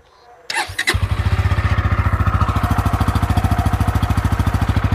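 A Bajaj Pulsar N160 motorcycle engine starts with a short burst, then settles into a steady, deep, rhythmic idle that stays close and loud.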